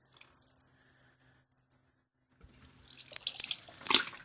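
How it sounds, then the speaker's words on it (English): A small splash of water pours from a garden watering can into soil on a porch. A quiet pause comes first, then a steady trickle that splashes louder near the end as the last of the water runs out. "Fortunately, there's just a splash left in this watering can."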